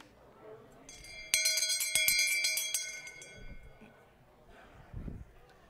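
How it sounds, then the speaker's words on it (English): A bell rings out sharply and clearly, struck repeatedly for about three seconds before fading, with a faint murmur of people in the background. "The bell being rung, recess is over."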